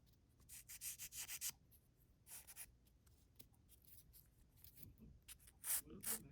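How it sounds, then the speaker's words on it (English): Small air-dry clay embellishment from a silicone mold being filed at the edges: quiet, close scratchy rubbing strokes in short rhythmic bursts with pauses between. "Again, a little bit of filing."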